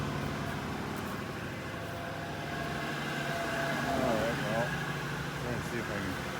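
A 1985 Oldsmobile Delta 88 idling steadily just after its first start of the year, running a little flooded, with a low continuous rumble and someone talking over it.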